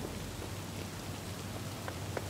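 Rain falls in the video game Cyberpunk 2077, a quiet, even hiss of steady rainfall with faint scattered drop patters, sounding alone with no talk.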